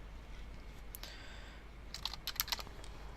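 Someone types briefly on a computer keyboard, a quiet scatter of light clicks over faint background hum, with no speech.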